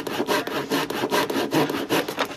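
Hand sawing wood with the workpiece resting on a table saw used as a bench: steady, loud rhythmic back-and-forth rasping strokes, about five per second, close up and continuous without talk.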